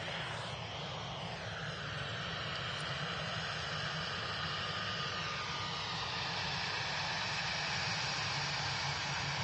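An EasyJet airliner departing an airport, a continuous broad jet engine roar that holds steady and swells slightly over several seconds, heard from a distance with no talk.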